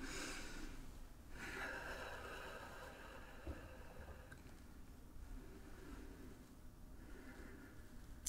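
A slow, deep breath during a calm guided relaxation: a faint, close inhale and exhale with a soft snorting, airy texture over a quiet hiss, and no speech.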